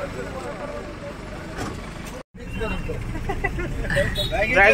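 A Tata Sumo pulls up with a low engine rumble beneath close talking, and the vehicle noise grows slightly louder toward the end.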